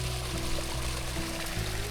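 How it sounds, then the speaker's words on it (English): Small waterfall of muddy ditch water spilling into a field, a steady close pouring and trickling wash with low rumble, continuous throughout with no talk. "Got a little waterfall"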